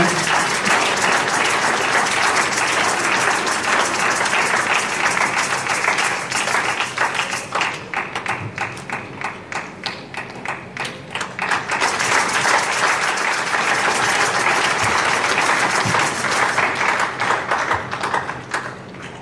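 Sustained applause and cheering from a congregation at a thanksgiving memorial service, loud dense clapping that briefly thins into scattered claps before swelling again, with no talk over it.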